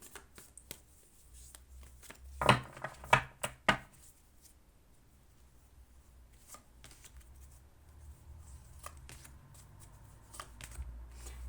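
Tarot cards being shuffled and dealt, a quick burst of four or five crisp riffling snaps close by, followed by soft faint card handling over near silence.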